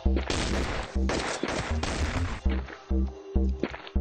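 Video game shotgun gunfire rings out as a rapid run of loud, close blasts with short gaps between them, partly overlapping one another.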